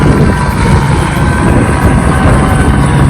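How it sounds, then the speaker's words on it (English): A loud, steady helicopter drone with rotor thrum fills the whole stretch, close and constant, heard from a hilltop near the Hollywood sign in Griffith Park, Los Angeles. "Why is there a helicopter?"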